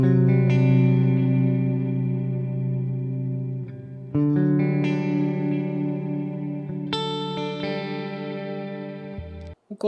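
An electric guitar plays through a reverb effect on an Ampero unit, ringing out three sustained chords in turn, each left to decay with a wash of lingering reverb tail before the next.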